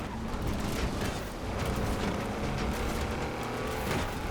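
A racing car engine roars in Forza Horizon 4 while drafting and braking in a pack, a loud continuous engine drone with surging revs throughout.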